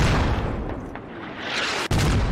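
Mortar fire rumbles through a match of the military shooter Squad, a loud, dense barrage of booming low thuds and blasts rolling continuously, with one sharp cut near the end.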